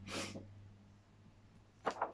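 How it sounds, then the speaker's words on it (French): A woman sneezes, a sharp burst at the start, followed by quiet and then a couple of short breathy sniffs near the end, close and soft overall. "je pense que j'ai éternué"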